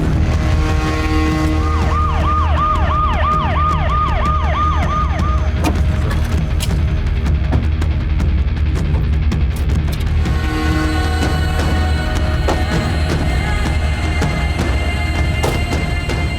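A wailing ambulance siren rises and falls in quick repeated cycles early on, over steady traffic rumble, then fades beneath scattered clatter and engine noise, in a TV crime drama scene.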